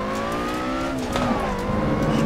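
Lotus Elise engine from the racing game Assetto Corsa, driven on the Nürburgring GP circuit, drones steadily with rising and falling harmonic pitch as it shifts revs, loud and continuous with no talk.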